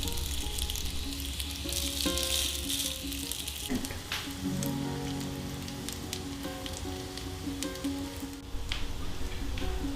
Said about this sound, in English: With just little oil, I'll put the first lot of tikkis on the pan